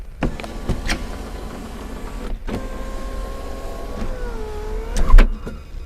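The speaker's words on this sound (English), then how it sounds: "this is the sunroof" The sunroof motor of a second-generation Acura Legend whirs with a steady electric hum, framed by sharp clicks of the switch and roof mechanism, heard close inside the car cabin.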